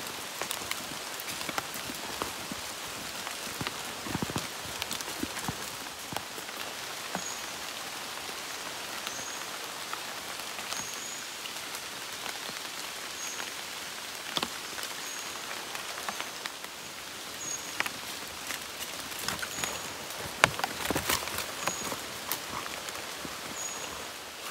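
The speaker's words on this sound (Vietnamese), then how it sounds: "giờ vào rừng thì mưa lại to cả nhà" Heavy rain falls steadily in a forest, drops pattering on leaves and surfaces in a continuous wash with occasional sharper close hits.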